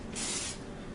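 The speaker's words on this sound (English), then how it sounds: "you guys want to spray this whole thing, the inside and the outside" Olive oil cooking spray hisses onto stuffed bell peppers in one steady, close burst of about half a second, with a faint rasp trailing after.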